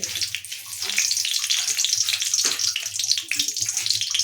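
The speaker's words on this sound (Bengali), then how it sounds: "একটু সর্ষে দানা দিয়ে আর একটু মৌরি দিয়ে চাটনিটা ফোড়ন করলাম।" Mustard seeds and fennel crackle in hot white oil while apple chutney is tempered, a dense, steady hiss and sputter that fills the short stretch with close, continuous frying noise.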